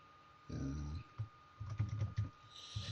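Computer keyboard keys tapped in short bursts while composing an email message, quick clustered clicks close to the microphone over a low hum.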